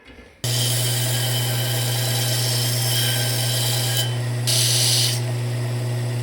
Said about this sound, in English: I'm gonna clean this up on the belty sander thing